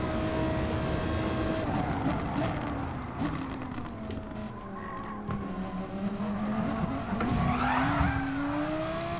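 Race cars in the Gran Turismo Sport video game grind along with engine drone while tires squeal and skid through a side-on collision during an online daily race, the squeal rising near the end.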